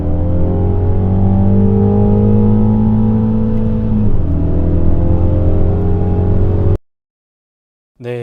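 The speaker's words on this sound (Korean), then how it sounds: "우리 엑셀 부드럽게 밟아서 속도 140까지 가속합니다." A Mini Clubman accelerating on a driving-centre track, a loud steady engine drone with rising pitch from inside the car, ending abruptly in silence.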